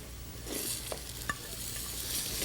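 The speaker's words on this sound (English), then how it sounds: "let's saute the rice and beans with the vegetables, ghee and spices together for about 2 minutes" Rice, beans, peas and vegetables sauteed with ghee and spices in a pan, giving a steady sizzle and frying hiss with a few stirring scrapes, close and fairly constant, no voices.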